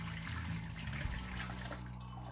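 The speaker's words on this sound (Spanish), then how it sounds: "agregamos más agua." Water pours onto maize in a kitchen while making Antioquian mazamorra, a steady, moderately quiet splashing and rushing stream that runs continuously without a break.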